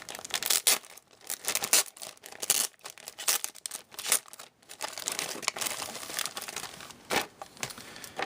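Action Base 2 packaging being opened by hand, with bursts of plastic and paper crinkling, crumpling and tearing in irregular rustling spurts throughout, close and fairly loud with no talking.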